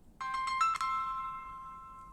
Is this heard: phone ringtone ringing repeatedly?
yes